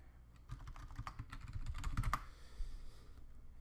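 Quick, irregular clatter of fingers typing a password on a computer keyboard during a Linux software install, close and fairly crisp, with a brief pause midway and a final firmer keystroke before quieter ticking.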